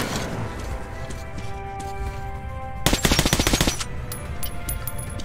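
Shotgun blasts and rapid gunfire ring out in the Metro 2033 video game, a dense burst of sharp repeated shots midway over a background of music and ambience.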